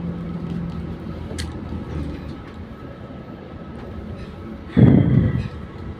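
Heavy street traffic rumbles near Wat Phra Kaew and Sanam Luang in Bangkok as a low, steady engine drone, with a large vehicle passing close and loud near the end.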